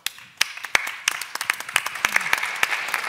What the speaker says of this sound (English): Clap your hands if you would agree with the statements the government should help